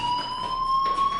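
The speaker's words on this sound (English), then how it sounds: "Hey, do you hear that fire alarm?" A fire alarm rings in a video game, a loud, steady, high electronic tone that holds continuously without breaks and without talk.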